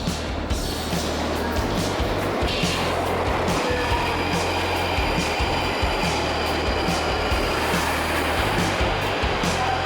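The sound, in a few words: London Underground train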